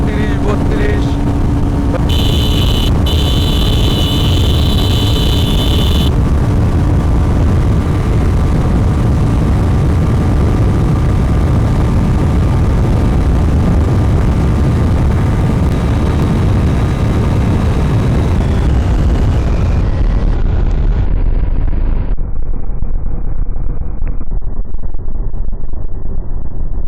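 A Suzuki Gixxer 250 motorcycle held at top speed on an open road produces a loud, steady engine drone with heavy wind roar that runs unbroken for over twenty seconds before thinning out at the end.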